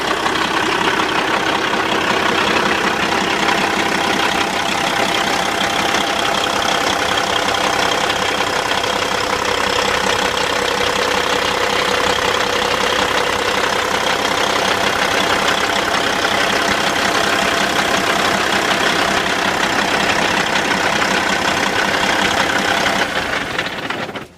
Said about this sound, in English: Engine is sounding wonderful.